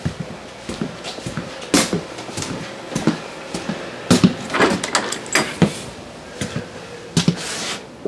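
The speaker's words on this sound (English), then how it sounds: "it's got a sliding door" A sliding door in a 2023 Coachmen Catalina 323BHDS travel trailer rolls and thuds shut amid a string of sharp knocks and clatters, close and fairly loud, with no one talking.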